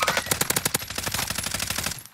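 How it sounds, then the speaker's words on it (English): Rapid automatic gunfire from a shooter video game crackles in a fast, even burst of shots, loud and close, then eases off near the end, with no talking over it. "Oh, he's just getting shot at."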